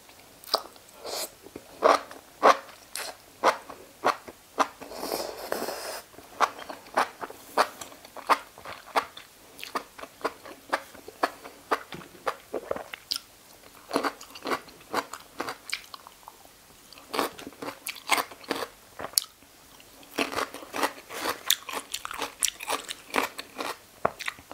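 Close, loud crunchy bites and chewing of spicy mala enoki mushrooms, repeated in a fast, irregular rhythm with wet squishy mastication between the sharp crunches, no talking.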